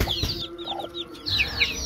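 Newly hatched Javanese chicks, nearly all black, give repeated high, thin peeps in quick bursts, close by, with a short pause in the middle of the calling.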